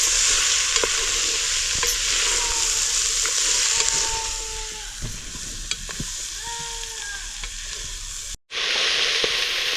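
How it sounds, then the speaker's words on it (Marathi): Potato, cauliflower, beetroot and fresh peas sauté in a pan of tempering for pav bhaji, giving a constant close sizzle with scraping spoon strokes and occasional clinks, cut by a brief silent gap near the end. "आता हे चांगलं फोडणीमध्ये मिसळून घ्यायचं परतून घ्यायचं जरा वेळ"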